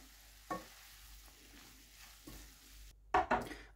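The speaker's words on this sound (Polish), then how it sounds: "odcedzamy tortellini, przekładamy do patelni i mieszamy" Tortellini is stirred in a frying pan, with soft scraping and gentle sizzling, then a few louder clattering scrapes near the end.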